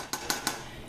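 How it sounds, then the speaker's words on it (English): A spoon stirring simmering chili in a pot, heard as three quick, light clinks against the pot over a faint background hiss. "I'm gonna give it a little stir."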